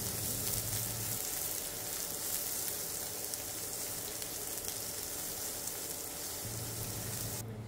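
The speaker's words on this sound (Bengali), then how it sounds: "পেঁয়াজ হালকা ব্রাউন করে ভেজে নিব" Half a cup of chopped onion frying in hot oil until light brown, a dense, steady hiss of sizzling that runs unbroken and close throughout, with no voices.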